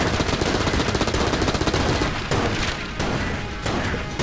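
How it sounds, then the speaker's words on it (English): A boss in Enter the Gungeon unloads rapid bursts of missile fire, a fast rattling volley followed by heavy booming impacts, loud and close. "Stop shooting missiles at me and die."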